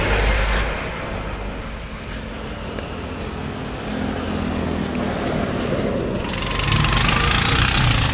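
Motorized tricycle cab engine running near the listener, a loud steady rumble that dips slightly then swells louder toward the end, with no talking.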